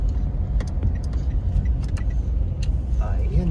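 Car driving through a resort in Tagaytay, with a steady low road rumble under a voice and some small jangling clicks.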